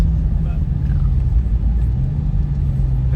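A 2020 Dodge Hellcat with a new intake idles with a deep, heavy rumble, a loud, steady low throb close by, as people talk over it.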